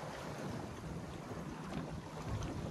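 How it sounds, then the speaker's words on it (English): Steady wind roars and buffets the microphone on an O'Day Osprey dinghy sailing the Blood River, with choppy water splashing against the hull underneath, continuous and close throughout. "Wind is picking up and it's beginning to get a little bit choppy."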